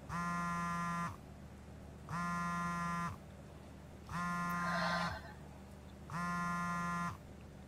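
A telephone rings repeatedly in a domestic drama scene, with four evenly spaced electronic ring bursts separated by short pauses, steady and clear, with a faint voice briefly underneath.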